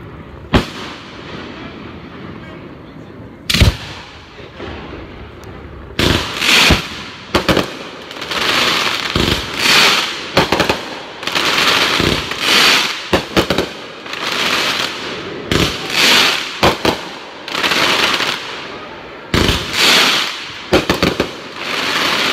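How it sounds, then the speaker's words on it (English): A family-run fireworks show booms and crackles, with repeated loud bursts and rapid crackling volleys at irregular intervals, some close together, over more than twenty seconds. "Your cousins are doing the lighting of all these lovely fireworks."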